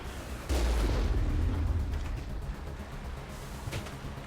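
Heavy booming cannon fire from the Mako vehicle in the video game Mass Effect, a loud blast at about half a second rolling into a sustained rumble, with a smaller thump near the end.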